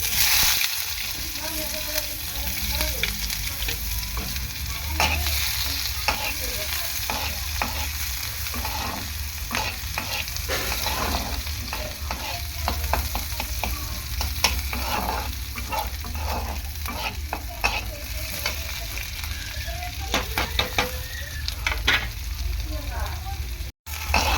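Chopped onion frying in oil with panch phoron seeds, a continuous near sizzle with repeated spatula stirring and scraping strokes against the pan, steady and moderately loud.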